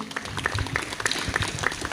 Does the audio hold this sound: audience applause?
yes